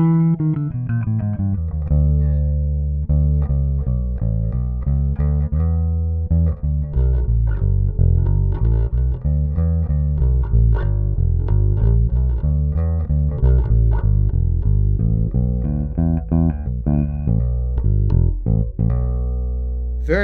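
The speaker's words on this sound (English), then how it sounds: "I finally got to the point where I'll play the bass without a pick." A 2019 BiLT Corvaire 34-inch bass guitar is played fingerstyle without a pick with both pickups blended, giving a busy, continuous line of deep plucked notes, loud and close, with no talking.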